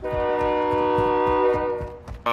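A train's horn blares in a long sustained tone over rhythmic wheel clatter as it passes in Call of Duty Warzone 2, the horn cutting off before a brief sharp burst at the end.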